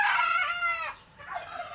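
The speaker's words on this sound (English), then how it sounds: "These roosters can't tell time for crap." A single rooster crows loudly nearby in the Philippines, one long drawn-out call, followed by quieter clucking.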